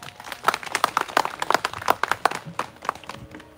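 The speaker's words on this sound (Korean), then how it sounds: "함주식 상무처장님 힘찬 박수로 모시겠습니다" Scattered audience clapping at an outdoor memorial ceremony, a moderate, uneven patter of hands that thins out after a few seconds.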